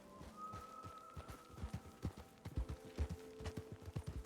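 Rhythmic clip-clop of horse hooves at a steady trot in the video game RedM, clear and close, with a faint sustained tone in the background.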